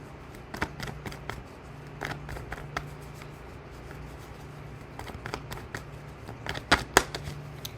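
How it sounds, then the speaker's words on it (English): Tarot cards shuffled by hand up close, a run of quick papery riffles and soft slaps with a few sharper card snaps near the end, no voices. "as I'm trying to shuffle, the 5 of Cups just comes on out"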